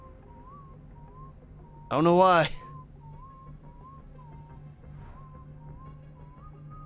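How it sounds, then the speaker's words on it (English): A short, loud, wavering melodic whistle from Road 96 rises above quiet ambient game music with a steady hum and drifting tones, while a voice speaks briefly. "Hear whistling."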